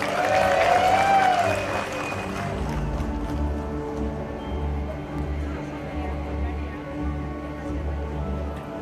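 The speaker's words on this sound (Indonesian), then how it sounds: "Berikan tepuk tangan yang meriah." A crowd applauds at a public gathering outside parliament, loud and dense at first and then tapering into a steadier, thinner clatter of clapping, with a voice over a loudspeaker near the start.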